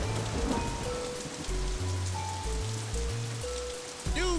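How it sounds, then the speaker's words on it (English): Cartoon rain falls steadily and continuously, a dense patter of drops on surfaces with a bumpy low-end thrum running under it and no talking. "It's not supposed to be raining here today."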